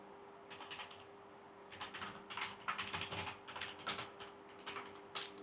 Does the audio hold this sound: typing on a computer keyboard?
yes